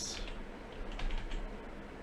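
A computer keyboard in a professional studio is tapped briefly as a file name is typed, light soft clicks, quiet over steady background hum.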